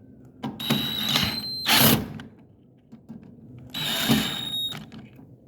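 Screws being tightened on the steel plates of a generator box on an Arete food trailer, heard as two bursts of whirring power-driver noise with a short clatter between them, close and fairly loud.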